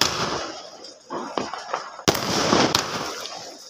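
Fireworks from a large sparkler, heard as a steady fizzing crackle with several sharp pops and bursts, close and fairly loud, with faint voices in the background.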